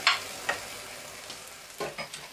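Mushrooms are stirred into a pork curry with coconut frying in a pan, giving a faint steady sizzle broken by a few soft scraping stirs near the start and end.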